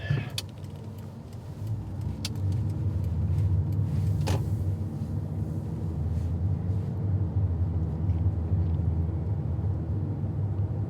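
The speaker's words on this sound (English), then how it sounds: "It's just so much fun driving up this this brand new road." A car rolls along a brand new, smooth road in Greeneville, Norwich, Connecticut: a steady low rumble of tires and engine from inside the cabin, with a faint rattle early on and no talk.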